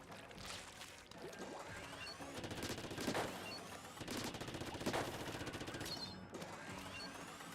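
Gunfire in the VRChat video game, bursts of rapid shots with mechanical clicks and clatter, a few heavier cracks standing out among quick repeated firing at moderate distance, no talk over it.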